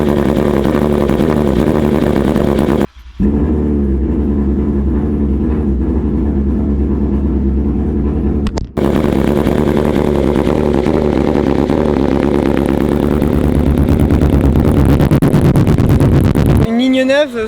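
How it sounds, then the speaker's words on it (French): A BMW S1000RR motorcycle fitted with a full exhaust line idles after a cold start, a loud, close, steady mechanical drone broken by two brief cuts. "Attention, démarrage à froid."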